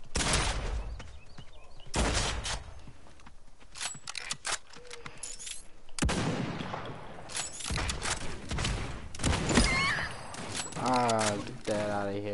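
Rapid bursts of gunfire crackle through a Realm Royale match, repeated volleys and single shots loud and close, with voices talking over the action.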